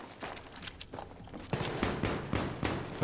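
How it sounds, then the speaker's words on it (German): Gunfire rattles in a Battlefield 3 multiplayer match: quiet, distant bursts and scattered shots roll on continuously for a few seconds. "Irgendwo ballert's hier, aber ganz gehörig."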